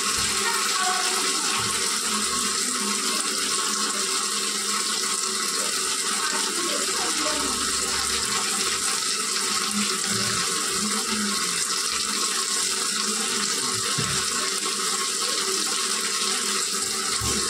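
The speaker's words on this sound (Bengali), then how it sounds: "এবার জল দিয়ে দিচ্ছি" Water pours into a pan of prawn curry on a home kitchen stove, a steady broadband splashing and rushing that runs loudly and continuously throughout with no talking.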